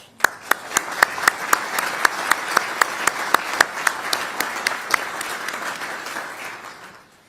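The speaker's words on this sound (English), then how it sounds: "Let's give them all a round of applause." Applause from an audience of military leaders and allies at a US military base gathering in Germany, a broad wash of clapping punctuated by sharp louder claps, steady before tapering off near the end.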